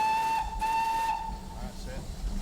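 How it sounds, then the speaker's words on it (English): A steam locomotive's whistle sounds a steady, clear tone approaching a crossing, lasting about a second amid loud hissing steam that continues after the whistle stops, with a low chuffing rumble underneath. "Now give another blow on the whistle because you're going on a crossing."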